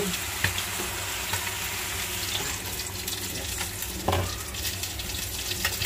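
Koi fish curry in a pan sizzles steadily and bubbles after turmeric water goes in, with watery hissing, occasional spoon clinks and stirring scrapes, close by and without talk.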